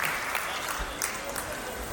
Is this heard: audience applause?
yes